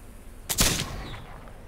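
A single loud gunshot from a Palmer Fury trophy gun in a hunting video game, a sharp crack with a short ringing tail, heard alone with no talk.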